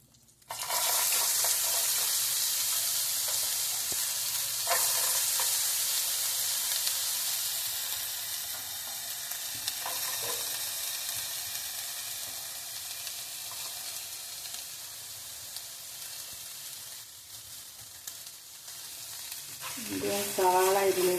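Medium-size sliced onions sizzle and fry in hot oil in a pan, a steady bright hiss that eases slightly over time, with occasional stirring clinks and a brief voice near the end.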